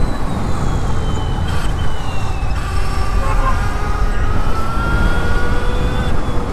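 An Ultraviolette F77 Mach 2 electric motorcycle ridden in ballistic mode gives a thin, rising electric motor whine over a constant heavy rush of wind, loud and close.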